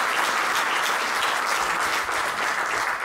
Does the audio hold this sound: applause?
yes